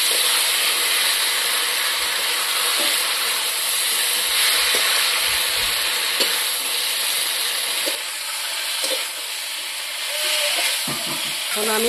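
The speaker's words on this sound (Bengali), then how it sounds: "আমি ভালো করে মশলাটা ভেজে নেব।" Spice paste with red chilli powder frying for a homestyle mutton curry, a loud, dense, steady hiss of sizzling oil with occasional soft stirring knocks, close and unbroken.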